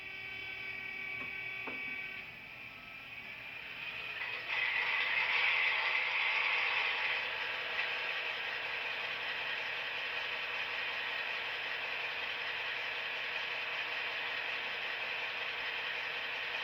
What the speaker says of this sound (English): No sound is coming out of the unit until I turn on F8, which is the Hostler motor on the A unit.